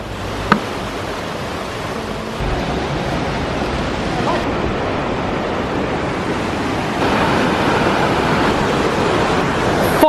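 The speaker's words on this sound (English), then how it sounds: "Fossen in Norwegian, waterfall." Waterfall in Norway beside a riverside camping spot, a steady broadband roar of falling water that builds slightly louder partway through, with a brief knock near the start and no voices.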